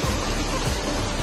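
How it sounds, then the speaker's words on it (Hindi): A strong waterfall near Robber's Cave (Guchupani) in Dehradun, heard as a loud, continuous rushing roar of water with no talking. "ये एक झरना हो रहा है, देखो फ्लो, देखो पानी का कितना तेज है।"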